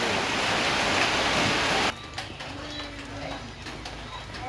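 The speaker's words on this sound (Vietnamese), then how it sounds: "Quá mưa càng ngày càng lớn không chú ơi." Heavy rain pours down loudly and steadily in a riverside village, then cuts off abruptly, leaving faint background sounds.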